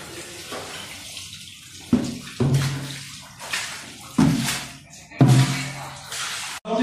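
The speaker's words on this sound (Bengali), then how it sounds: "এই সার্ফের জলে আমি বাথরুমের যে জায়গাগুলোতে আমি পা দিয়েছি সেই জায়গাগুলোকে আমি পুরোটাই সার্ফের জল দিয়ে বাথরুমটা ধুয়ে নেবো" Tap water and detergent water sloshed over a bathroom floor during washing, several separate loud splashing gushes a second or so apart, each fading to quiet dripping.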